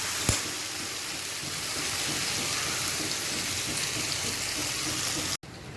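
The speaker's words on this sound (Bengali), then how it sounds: "একটু ভেজে নিই ভালো করে।" Spices for chaat fry in a pan with a steady, close, rain-like hiss. A sharp click comes near the start and a brief dropout near the end.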